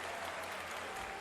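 Audience applause at Bethesda's E3 2019 press conference, a steady, dense wash of clapping from a large crowd filling the whole brief moment at moderate level.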